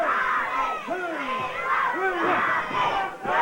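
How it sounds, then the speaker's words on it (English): A wrestling crowd at a live GCW event chants in rising and falling waves of many voices, loud and continuous, with a rhythmic shouted cadence. "You hear the crowd picking up the chant, "We want Tommy.""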